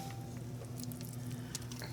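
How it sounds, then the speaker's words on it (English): Cooked hamburger meat pattering and squishing as it is poured into a crock pot for chili beans, a brief soft wet tumble over a steady background hum. "going to pour the hamburger in here"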